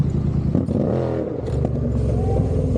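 A car pulls away from a gas station in first gear, its engine revving upward in a close, loud rising pitch, then easing off briefly before climbing again.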